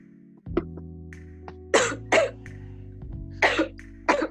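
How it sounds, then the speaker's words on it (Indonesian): A person coughs four times in short, sharp bursts, close and fairly loud, with small throat sounds between them over a faint steady hum. "Maaf ya aku batuk guys"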